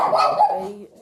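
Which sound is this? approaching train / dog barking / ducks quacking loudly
dog barking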